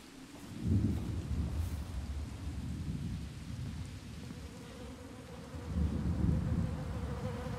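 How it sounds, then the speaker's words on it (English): Flies buzz in the horror video game Get Even, a low droning hum that swells and fades in waves against a dark rumbling ambience, steady and close with no speech. "the sound's buzzing between the two ears of the flies"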